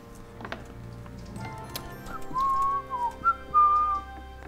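A character in the medieval role-playing game Kingdom Come Deliverance whistles a few short melodic phrases, clear and fairly close, over a faint ticking and quiet in-game background.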